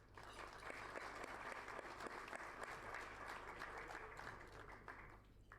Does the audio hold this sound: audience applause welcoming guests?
yes